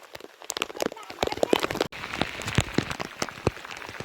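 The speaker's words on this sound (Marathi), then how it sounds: "अचानक आलं पाऊस" Sudden rain falls on a Konkan farm field during plowing, a dense, irregular patter of close drops striking surfaces, steady throughout with faint voices mixed in.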